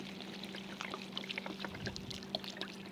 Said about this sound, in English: And then we got the chicken broth. We're gonna put the entire thing in it.